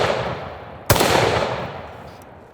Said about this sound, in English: We completely blew through that windshield with 300 Win